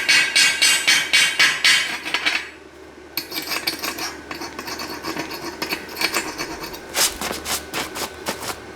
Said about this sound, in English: we're going to knock the slag off of these